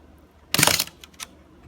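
A leaf shutter lens fires on an SL66 medium-format camera: one sharp mechanical snap with a brief whirring release, followed by two faint small clicks, close up and isolated.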